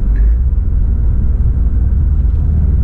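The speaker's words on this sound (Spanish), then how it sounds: "El famoso rumble de los Subaru." Deep, steady engine rumble of a 2018 Subaru WRX STI heard from inside the cabin, a continuous low drone at even loudness throughout.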